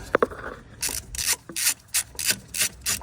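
Ratcheting on the last threads of a tensioner pulley bolt on a Cummins ISX engine, heard as a series of about eight rhythmic, raspy ratchet strokes, close and fairly loud, with a couple of faint metallic clicks at the start.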